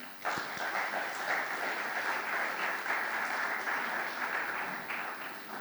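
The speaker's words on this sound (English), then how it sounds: "A round of applause for Dr. Binayak." An audience at an education panel forum in Bhutan applauds the introduction of a panelist, a sustained, full round of clapping that starts sharply and holds evenly before easing slightly at the end.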